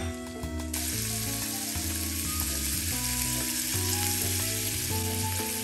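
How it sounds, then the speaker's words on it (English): Frozen scallops sizzling steadily as they fry in hot oil, a dense, continuous crackle that holds loud throughout with no voices over it. "Cook the scallops."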